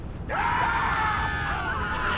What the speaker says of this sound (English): Hearing the screams of people being like engulfed in flames